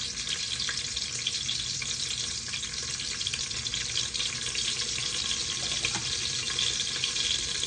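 Garlic and green chillies frying in hot ghee, a steady dense sizzle that stays close and constant throughout, with no talking.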